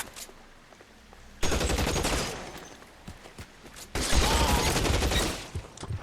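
Gunfire in L.A. Noire comes in two loud, dense bursts of rapid shots, close and harsh, with scattered single cracks between them.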